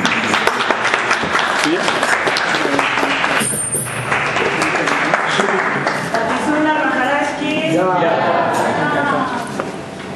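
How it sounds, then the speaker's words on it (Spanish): Audience at a Krishna devotional gathering applauding in a dense, continuous burst, with voices calling out over the clapping toward the end. "Un aplauso para aquí."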